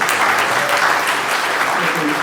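Steady applause from an audience, a dense wash of clapping that continues evenly throughout.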